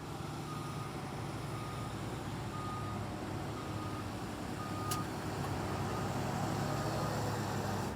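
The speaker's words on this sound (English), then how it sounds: "He's in the Volvo 30 ton, got a whole load of mud." A Volvo 30-ton dump truck loaded with mud reverses near a cliff edge, its backup alarm sounding a steady series of evenly spaced beeps over a continuous low diesel rumble, with a brief sharp high burst partway through.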